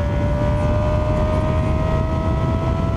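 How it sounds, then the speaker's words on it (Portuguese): Engine noise on a mountain road near Serra Negra, where motorcycles pass, a loud steady drone with a sustained tonal whine throughout and no voices. "Já passou muita moto aqui,"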